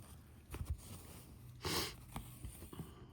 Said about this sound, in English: I've got the sniffles today